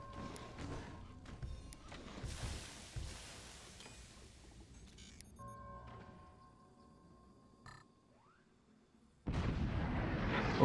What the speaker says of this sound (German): Da waren viele Schüsse, die in den Schild reingingen.